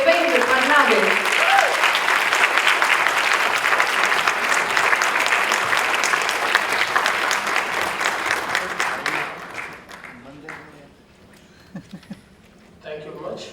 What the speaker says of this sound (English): a huge round of applause to Devendra Fadnavis